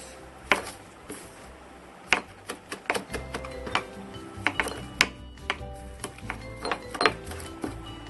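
Irregular sharp knocks of a large knife mincing parsley on a board, quick clustered taps with pauses, fairly quiet.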